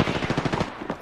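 Rapid automatic gunfire in a first-person shooter video game, a loud, close burst of evenly spaced shots that trails off near the end.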